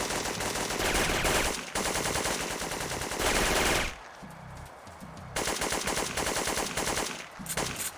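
Sustained automatic machine gun fire from the video game Syphon Filter 2, set in the Colorado mountains, rattling loudly in long bursts with a brief lull before the firing resumes.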